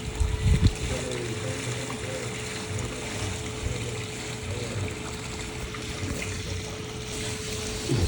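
Wybot C2 robotic pool cleaner running underwater, a steady low churning whoosh and hum of water jets with a faint constant tone, continuous and fairly close throughout.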